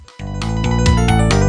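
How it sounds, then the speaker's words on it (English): A cheap old computer in a video game plays music badly: a harsh, buzzy electronic tune with steady stacked tones and chiptune-like notes, starting abruptly after a brief gap and continuing loud and alone. "Whenever I try to play music, it sounds a bit like this."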